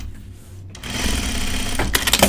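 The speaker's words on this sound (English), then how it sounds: "The machine wants to sew in a straight line." Sewing machine stitching a straight seam on pants, starting after a short pause and then running in a fast, steady mechanical chatter, close and loud.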